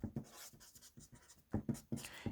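A pen scratches out a physics problem on paper in short, close strokes with brief pauses between them.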